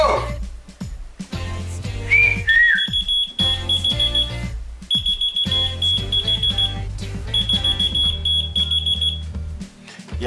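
A Chinese keychain finder that responds to whistling sounds its alarm, a piercing high electronic beeping in repeated bursts separated by short gaps, loud and close, with whistles and background noise between the bursts.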